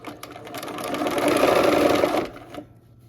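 Close sewing machine stitching a quilt block seam, a steady whirring drone that swells and then stops after about two seconds, followed by quiet fabric handling.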